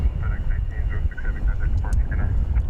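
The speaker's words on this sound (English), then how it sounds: "That is FedEx Flight 1806 off to Oakland, California. 767 300 freighter." A FedEx Boeing 767-300 freighter departs at night from DFW Airport, heard as a steady, loud jet engine roar with low rumble throughout, while a person talks over it.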